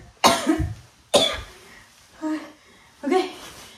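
Four harsh, close-up coughs from one person with a sore cough, spaced about a second apart, the first two heavy and wet, the later ones shorter and throatier.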